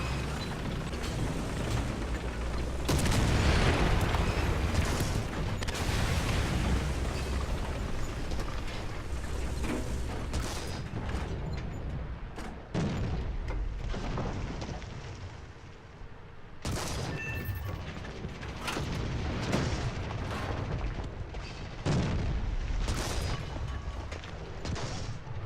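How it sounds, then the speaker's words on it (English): Ground combat in the video game War Thunder, with an aircraft strafing run amid a tank battle. Loud gunfire and explosions run continuously throughout, with sharp bursts and booms over a constant rumbling din. "That aircraft was doing a strafing run on me."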